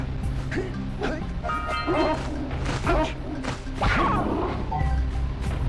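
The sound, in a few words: dog barking in the video game Jak and Daxter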